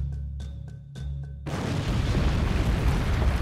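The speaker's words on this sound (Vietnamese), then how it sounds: "đó là pháo kích của Trung Quốc" Artillery shelling in an animated depiction of the 1979 Sino-Vietnamese border war: a few dull thuds first, then a sustained rumbling roar of explosions that swells and continues loud to the end.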